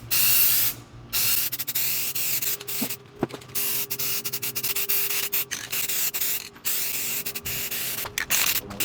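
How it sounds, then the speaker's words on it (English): Rust-Oleum high heat paint hissing from an aerosol can onto a Freightliner truck's rear leaf spring part, in long steady bursts with brief gaps where the nozzle is released, close and loud with no talk. "Now we're just going to spray paint it, and we're going to use some of this Rust-Oleum high heat."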